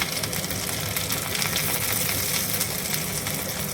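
Garlic and homegrown coriander frying in butter give a steady, close sizzle, constant and even throughout with no voices.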